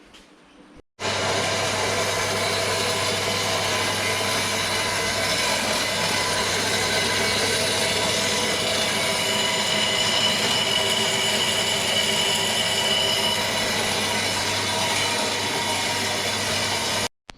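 Metal intake pipe for a Lexus IS250 cold air intake being cut with a power tool, a loud steady droning whine that runs unbroken for about sixteen seconds, close by, with no talking.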